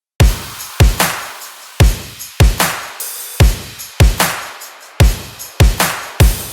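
An EDM and future bass drum loop with layered kicks, snares and effects pounds in a steady four-on-the-floor rhythm, each punchy hit trailing a bright noisy wash, loud and without voices.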